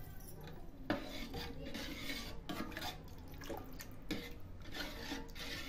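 Ragi ambil, finger millet in water, is stirred in a pot on the stove, giving quiet scraping and clinking of a spoon against the pot in irregular strokes, close and soft, with no talk.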